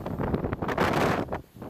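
Storm wind from Hurricane Ernesto buffets the microphone in loud, roaring gusts that surge and ease over a couple of seconds, with boats nearby rocking in the blow.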